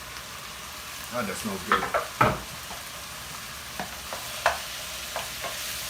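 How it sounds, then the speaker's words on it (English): Tomatoes tipped into a hot pan for a 30-minute pasta sauce and stirred, giving a few soft bursts of sizzle and scraping at moderate volume, then quieter intermittent stirring clicks, with a brief remark spoken over it. "Then next we're gonna add in our tomatoes."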